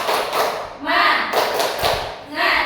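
A standing class claps out a rhythmic 'tepuk semangat' chant routine, bursts of group clapping in patterned phrases with brief gaps between them, close and fairly loud.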